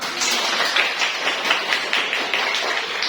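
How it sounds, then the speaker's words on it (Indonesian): A classroom audience applauds the first group during a teaching-practice session, producing a steady wash of clapping that runs the whole length with small bursts of louder claps and no talking. "Kita berikan aplaus untuk kelompok pertama."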